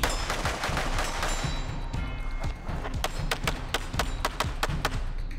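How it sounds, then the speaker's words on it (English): Rapid shots from a rifle, shotgun and pistol ring out on a homemade practice stage, with sharp cracks coming in quick, uneven bursts and short gaps between strings. "Plenty of movement and a minimum of 30 rounds with the rifle, shotgun, and pistol on this homemade practice stage."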